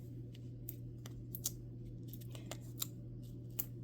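Faint, quiet snips of ribbon scissors cutting, a scattering of short crisp clicks spaced irregularly over a steady low hum.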